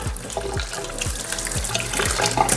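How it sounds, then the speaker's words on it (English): A tap runs hot water for rinsing, giving a steady close splash and trickle into a sink with repeated gurgling pulses throughout. "I'm going to turn the tap on and we'll start to rinse with some hot water."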